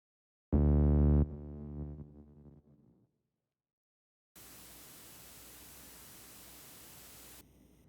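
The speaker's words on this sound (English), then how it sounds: "just play some noise and filter it down, like super, super simple style" Broadband filtered noise used as a simple synth background texture in music production, a steady hiss entering about halfway through and sustaining at moderate level after a brief decaying tonal hit, with no voices.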